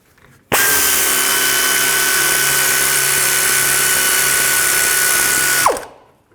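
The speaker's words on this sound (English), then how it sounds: "I'm going to take this lower caliper bolt off. I'm going to use a 14mm socket." A power tool spins a 14mm socket to remove the lower brake caliper bolt on a 2013-19 Nissan Sentra, giving one loud, steady whine that starts abruptly and runs about five seconds before winding down.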